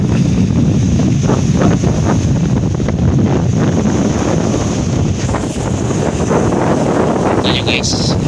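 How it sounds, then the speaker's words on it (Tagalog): Strong typhoon wind batters the microphone by the sea at Ozamiz, a loud continuous roar with gusty buffeting over crashing waves, and a voice talks faintly under the din. "Lakas ng hangin."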